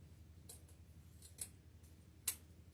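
Scissors cutting ribbon for a deco mesh evergreen wreath give a few sharp, close snips, two of them louder than the others, against a quiet low hum with no voices.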